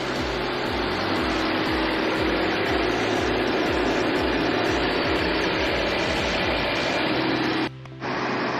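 A 2013 Audi A8L Quattro engine runs at a steady idle, a close, constant low hum with a faint rhythmic pulse that holds for several seconds before a brief dip near the end.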